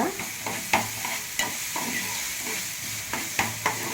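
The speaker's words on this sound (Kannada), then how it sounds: "ಸ್ವಲ್ಪ ಈರುಳ್ಳಿ ಬಾಡಲಿ ಒಂದು ಚಟ್ಟಿ ಅಷ್ಟು ಉಪ್ಪು ಹಾಕ್ಬಿಡ್ತೀನಿ" Chopped onions fry with salt in a pan for an egg masala bonda, giving a close, steady sizzle broken by several sharp scraping stirs.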